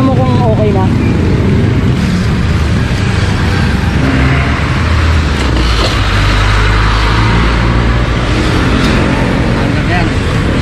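A vehicle engine started right after refuelling, loud steady running and revving close by, with people talking over it.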